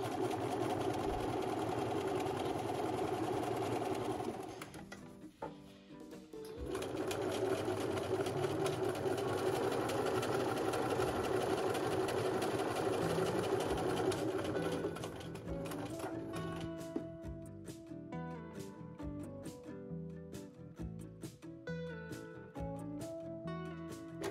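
A sewing machine stitches around the edge of a fabric scarf, running in long steady bursts with a short pause, then slower rhythmic stitching toward the end.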